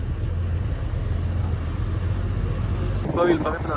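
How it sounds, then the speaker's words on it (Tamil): Traffic on a forest road in Bandipur National Park, heard from aboard a KSRTC bus: a steady low engine rumble throughout, with an oncoming bus's approach swelling briefly near the end, while people talk over it. "எதிரே ஒரு பஸ் வருதுங்க."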